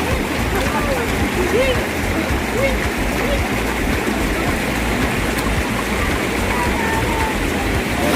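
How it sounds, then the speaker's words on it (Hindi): Banganga, a mountain stream on the Vaishno Devi pilgrimage route near Trikuta mountain, rushes down like a waterfall, giving a steady, loud broadband roar and splash throughout with no pauses. "ये जो जल की धारा आप देख रहे हैं झरने की तरह बहता हुआ जा रहा है, इसका नाम है बाणगंगा"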